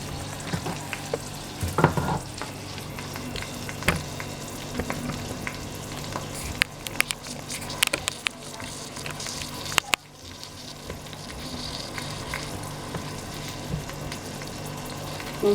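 Rice sizzles and fries steadily with onions in a pan, with a continuous crackling hiss and occasional scraping stir strokes, close and fairly quiet, and no talking.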